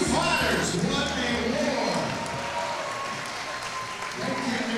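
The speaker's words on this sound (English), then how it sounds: "big round of applause for these two fighters" A crowd applauds two fighters at the Elevate Fighting Championship 3 event, Cortez vs Gutierrez, with steady clapping and crowd noise under an announcer's amplified voice.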